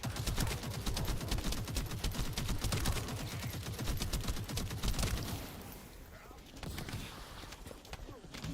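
Rapid gunfire and bursts of explosions from the sci-fi shooter video game The First Descendant, a dense, loud barrage of shots that thins out toward the end, with a voice talking over it.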